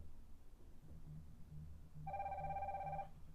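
An HK8 Pro Max smartwatch rings with an incoming call, a faint, steady electronic tone starting after a quiet low hum and sounding for about a second, with no voices.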